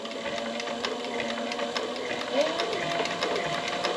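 A Cobra class 4 leather sewing machine stitches thin leather while making a weight bag for tooling, giving a fast, steady mechanical whirring and clatter as someone talks.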